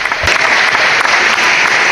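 A steady burst of crowd applause plays as a sound effect on a Knicks basketball podcast, dense, loud clapping that stays even throughout the whole two seconds with no talk over it.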